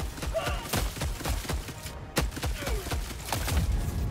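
Rapid bursts of gunfire in the video game Helldivers 2, a quick string of sharp repeated shots at moderate loudness with thumps mixed in, under excited talk from players.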